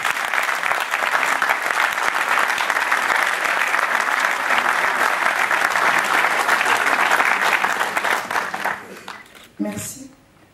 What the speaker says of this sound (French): Je vous demande d'applaudir, madame.